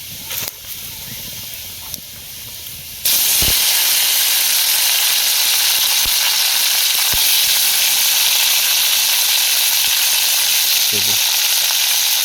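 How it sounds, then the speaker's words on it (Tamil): Curry leaves sizzle loudly in hot oil as they are sautéed and stirred, a steady close hiss that bursts in suddenly and stays constant, with a few faint scraping knocks of the spoon and no talk. "கருவேப்பிலை நல்லா வதங்குற வரைக்கும் நல்லா கிண்டி விட்டுரு."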